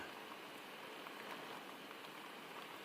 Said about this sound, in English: Rain rolls off the edge of the roof, dripping in soft patterns that gather into tiny streams